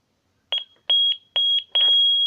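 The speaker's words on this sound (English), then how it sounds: "as soon as you hear your beep, press 0 by doing this." A Lynx Plus alarm system keypad emits a series of sharp, loud electronic beeps in an irregular rhythm, the tones clear against silence, with some longer sustained beeps.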